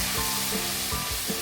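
Spices with turmeric powder frying for a spicy tomato chutney, a steady loud sizzle in a hot pan with a few soft scrapes of stirring, close up.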